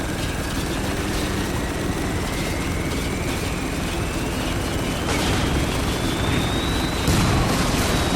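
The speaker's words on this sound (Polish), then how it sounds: "są dwa helikoptery." Helicopters in the war shooter Spec Ops: The Line: a loud, continuous rotor and engine roar with a slowly rising whine, dense and steady throughout, with a brief burst near the end.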